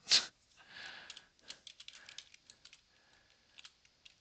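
Quiet, irregular clicks of keys being typed on a computer keyboard, close and soft, with a brief louder rustle at the start and short pauses between bursts.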